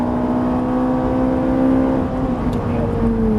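Ferrari 458 engine pulling hard at full throttle on the Haut Saintonge circuit, a loud, steady high-pitched wail whose pitch dips slightly as it sweeps on, heard from close inside the car.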